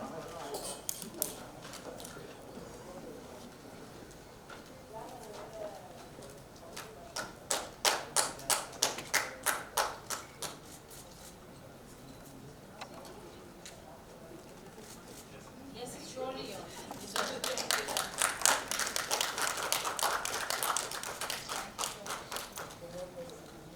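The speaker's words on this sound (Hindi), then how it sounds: "जोरदार तालियां लेडीज एंड जेंटलमैन" Audience applause breaks out in bursts at a celebrity awards ceremony, first a short round and then a longer, louder swell of clapping, with a host's voice over the hall between the bursts.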